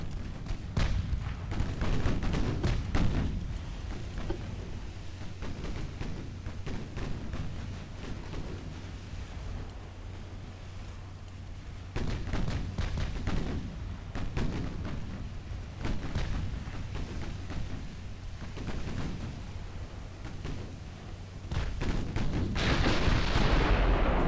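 Naval gunfire from warships in the video game Ultimate Admiral Dreadnoughts, a steady stream of deep booms and rumbling shell blasts over a constant low hum, dense salvos early on, a lull mid-way, then another heavy barrage.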